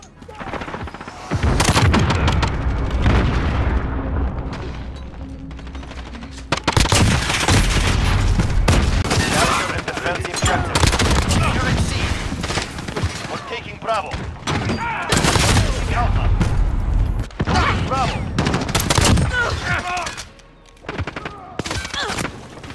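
Platinum-camo M19 pistol fired in an online shooter game, with rapid bursts of loud close gunshots and sharp cracks in dense clusters, alongside other gunfire and game effects, with a short pause mid-sequence.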